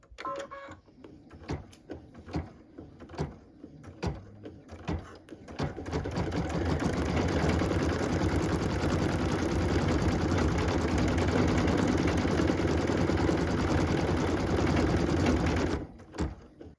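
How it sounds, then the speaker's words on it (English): An embroidery sewing machine stitches a star tack-down line, a steady fast mechanical whirr that starts after a few seconds of clicks and taps, runs loud and even for about ten seconds, then stops. "we're going to go ahead and stitch the tack down line for our star"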